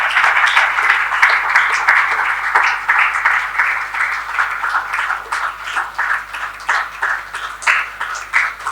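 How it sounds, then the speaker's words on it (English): A seminar audience at a market research awards session claps in steady, even applause, dense and continuous throughout with no voices over it. "Big round of applause while I go through the slides."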